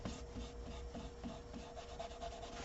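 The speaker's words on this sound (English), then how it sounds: "So we're going to rub that away." Soft, rhythmic rubbing of cut and polish off a woodturned rim, quick back-and-forth strokes close by and fairly quiet, with no voices.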